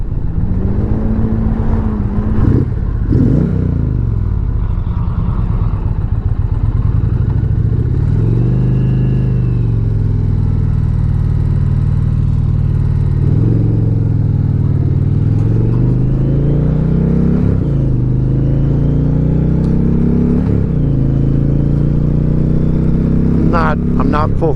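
A 2021 Indian Challenger Limited motorcycle accelerating on the road, its engine droning and rising in pitch through repeated pulls, with heavy wind rush and a rider talking over it.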